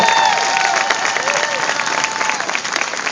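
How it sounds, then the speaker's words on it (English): A large outdoor crowd at a July 4th concert on Main Street in Rochester gives the Rochester Philharmonic Orchestra sustained, loud applause, a dense wash of clapping that stays steady throughout. "How about a big round of applause for the best Philharmonic Orchestra in the country right behind us here"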